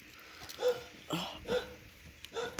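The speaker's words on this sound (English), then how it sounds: "Shut up, dogs." Several dogs bark in short separate bursts across a quiet evening campfire setting, each bark fairly faint and distant, with a bit of whimpering and a voice now and then.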